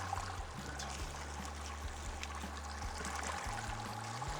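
A liter of agave syrup poured into an agave triple IPA brew in a Brewzilla, a steady liquid pouring and trickling sound running continuously at low volume over a constant pump hum.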